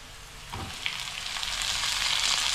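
Potato chunks fry with onions in an oiled pan, a bright hiss that swells steadily after they drop in with a soft thud, close up with no talking.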